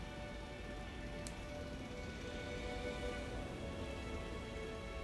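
Rain falls during a storm in Jurassic World Evolution 2 as a faint, steady, even patter with no break, heard alone without talk.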